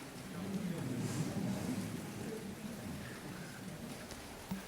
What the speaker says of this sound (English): Can we hear the rain?